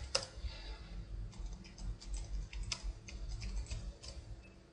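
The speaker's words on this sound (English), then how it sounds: "I need to type it manually" Fingers tapping on a computer keyboard, a quick irregular run of light clicks close by, with no talk over them.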